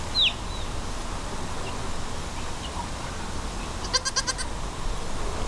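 Baby goats bleating on a farm, a quick high call at the start and a short run of rapid stuttering bleats later, over a steady outdoor background with no talking.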